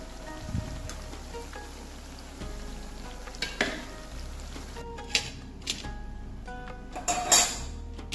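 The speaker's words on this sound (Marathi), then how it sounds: "तर मी आता बाकीचे चकल्या तळून घेते." Chakli made from poha and roasted gram fries in hot oil in a kadhai over medium heat, giving a soft, steady sizzle with scattered crackles and spits, no talk.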